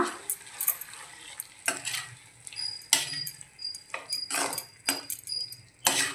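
Malvani cashew chicken masala, with a ground onion-coconut paste just added, is stirred in a pan: irregular bursts of spoon scraping and metallic clinks over a soft sizzle, close and fairly loud.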